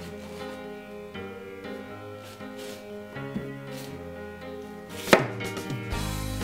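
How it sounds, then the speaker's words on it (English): A knife cuts a rutabaga in half on a kitchen board, a few soft thuds and one sharp, louder chop near the end, heard against background music with no talking. "I'm going to start by cutting the rutabaga in half."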